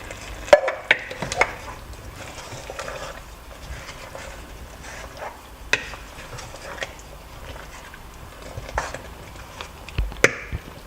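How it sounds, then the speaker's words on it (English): A spoon stirs thick Ghana egg stew sauce in a pan, with soft scrapes and scattered light clinks against the metal over a faint, steady sizzle, close up and with no talking. "Make sure to keep stirring so that it doesn't burn."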